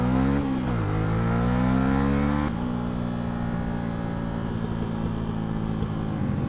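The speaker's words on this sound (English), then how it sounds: "what is that whole, like, aggressive revving like that?" A motorcycle engine is revved hard and loud nearby, with rising and falling harmonic sweeps in the first seconds, then a sustained high-revving roar that holds steady to the end.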